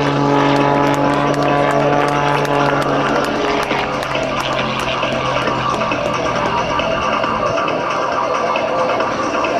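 Propeller engine of a 1946 original Pitts biplane with a 65 horsepower motor, climbing and rolling during aerobatics at the Dayton airshow, a loud, steady droning roar that holds throughout with a slight shift in pitch near the end.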